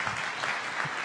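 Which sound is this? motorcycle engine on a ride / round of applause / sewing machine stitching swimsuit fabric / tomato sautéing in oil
round of applause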